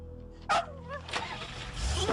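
A dog inside a house gives a sharp, close bark followed by a few whining, yelping cries over a dull, noisy room background.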